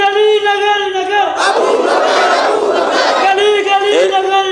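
At a Friday religious gathering honouring Siddiq Akbar, a lead voice calls out and a large crowd roars a slogan back in unison for about two seconds before the leader's voice returns.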